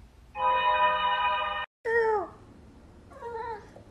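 A pet cat indoors in the morning lets out a long, loud, drawn-out meow, then a shorter bending meow and a softer third one after a pause, all close and clear with no talking.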